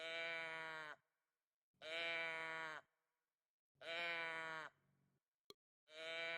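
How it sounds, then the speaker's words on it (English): A sheep bleats repeatedly as it passes, four long, harmonically rich calls separated by short silences, close and loud, with one sharp click between the last two. "a sheep going by."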